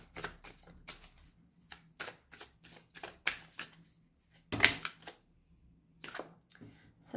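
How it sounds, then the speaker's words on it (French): A deck of Tao cards is shuffled and handled, giving a string of quick crisp flicks and riffles close by, with short pauses between bursts and no speech. "on va prendre une carte du Tao que je vais essayer de tenir à l'endroit"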